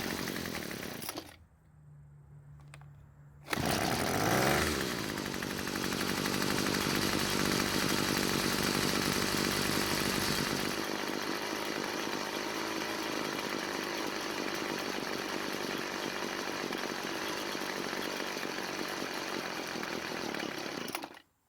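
A Hyper Tough gas string trimmer, a roadside find under repair with its carburetor fuel setting adjusted, sputters briefly, then catches and runs at a loud, steady high-pitched engine whine for about fifteen seconds before cutting out abruptly.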